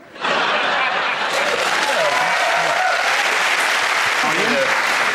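A studio audience at a comedy panel show breaks into loud applause after a brief quieter moment, the clapping swelling almost at once into a thick, steady roar that carries on to the end, with faint voices mixed in.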